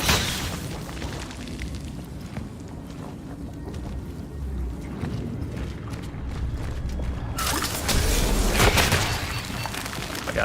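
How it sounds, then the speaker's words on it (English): An acid-spewing creature in the horror game Cronos: The New Dawn bursts in a loud, heavy explosion, followed by rumbling, creaking mechanical ambience and a second surge of noisy blast near the end; no speech. "they must explode and then put acid on the ground"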